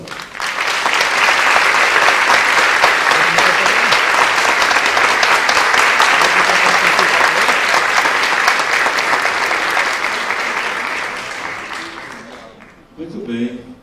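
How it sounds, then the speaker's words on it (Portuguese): Long, loud, dense applause from a theater audience welcoming a couple onto the stage, sustained steadily before tapering off at the end, with a voice starting to speak as the clapping fades. "Vamos convidar e receber com a salva de palmas o casal Marques e Conceição"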